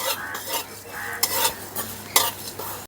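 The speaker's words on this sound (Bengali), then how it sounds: "এখন মশলাগুলো ভালো করে ভেজে নেব।" Cumin and garam masala being stir-fried in a pan: brisk scraping strokes of a spatula with light sizzling and a few sharp clinks against the metal, close and without speech.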